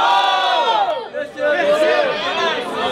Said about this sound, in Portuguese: Barulho para quem gostou da rima do MC PK